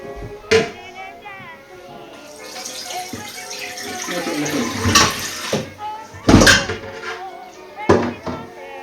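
Tap water rinses out a saucepan after making Lord Woolton's Pie, splashing and gushing at close range with several hard metallic knocks and clanks as the pan is handled.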